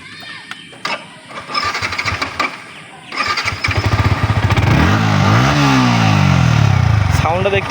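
A Yamaha R15 motorcycle, a used bike, cranks and fires up, its engine catching into a steady, rising idle with a couple of revs; close and loud, with people talking briefly before it starts.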